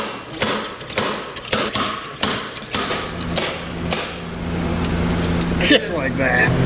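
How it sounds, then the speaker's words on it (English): Someone hammers parts off the winch of a 1966 Land Rover, striking metal in a series of sharp, loud blows roughly every half second that stop partway, leaving a steady hum with talk around it. "hammering some stuff off the winch"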